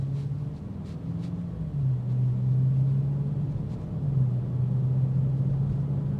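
A BMW X5M Competition's engine drones in a steady, deep note while driving, holding a constant low tone with a slight pitch dip partway through. It stays moderately loud and close, with no talking.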